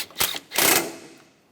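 A nut is tightened down on the air filter of a 2009-2013 BMW 328i xDrive with the 3.0L inline-six: two short, close mechanical ratcheting bursts, the second longer and fading out.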